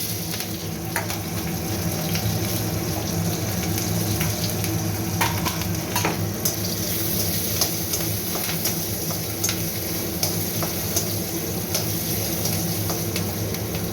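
Chopped garlic and green chilies fry in oil with cardamom and cinnamon, a steady close sizzle with occasional light clicks and taps of stirring, no voices.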